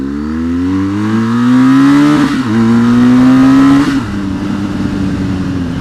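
BMW R1200GS motorcycle engine revving hard as it accelerates along a twisty country road, loud and close, the pitch climbing through two gear changes before settling into a steady drone.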